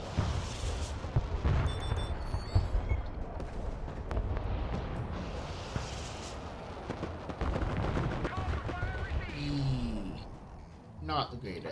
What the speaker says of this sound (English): This mortar is going to be putting down fire as well